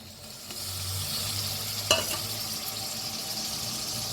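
Steady sizzling of tomatoes frying in a pan with onion and garlic, with a brief scraping clatter of stirring partway through.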